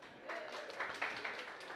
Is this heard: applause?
yes